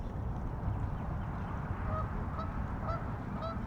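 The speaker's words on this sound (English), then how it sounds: "I don't want to get attacked by a goose, man." Geese honk near a fishing spot by a pond or lake, several short nasal calls in the latter half, moderately distant over a steady low outdoor rumble.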